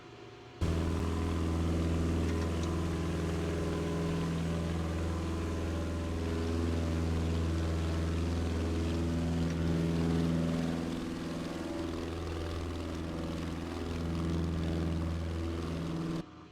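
A Piper PA-30 twin-engine aircraft climbs in Microsoft Flight Simulator 2024, its propeller engines giving a loud, steady droning hum with layered tones that waver slightly and hold throughout, no voices.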